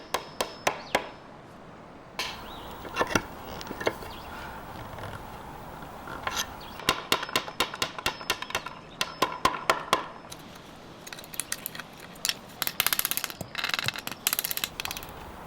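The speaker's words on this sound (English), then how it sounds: "Removing these nails at a slight angle can chip out some wood around the holes" Rusty nails are pried out of an antique painted dresser's wooden top: sharp clicks, creaks and scraping taps come in irregular bursts with pauses between, close and fairly quiet.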